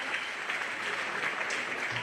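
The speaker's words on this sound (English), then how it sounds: "let's give a big round of applause to our Class 3 exhibitors" An audience at a 4-H/FFA swine show applauds the Class 3 exhibitors, a steady, fairly loud wash of clapping that fills the whole brief moment.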